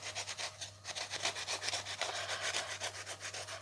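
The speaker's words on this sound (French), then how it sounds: "je vais enduire mon pain avec une gousse d'ail. Mais vraiment, je frotte très très fort" A garlic clove rubbed very hard against a bread crust, producing quick repeated rasping strokes, close and scratchy, in a steady back-and-forth rhythm without speech.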